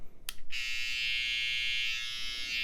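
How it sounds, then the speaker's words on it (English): A TPOB XO hair trimmer switches on after a few handling clicks and runs with a steady, fairly loud electric buzz for the rest of the clip, close up and with no talk. "Sound-wise, it's not the quietest trimmer I've got. It's not the loudest."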